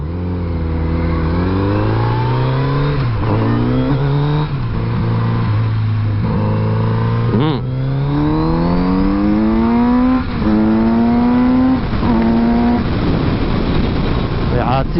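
A Kawasaki Z900RS retro motorcycle engine revving up through several gears, pitch climbing and dropping with each shift, close and loud, with a voice talking over it.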